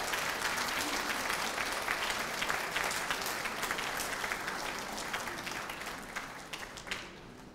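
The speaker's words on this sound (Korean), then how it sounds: "큰 박수로 격려와 함께 해주시기 바랍니다." Sustained audience applause in a large hall at a political campaign rally in Busan, a dense, steady wash of clapping that holds throughout and thins slightly toward the end.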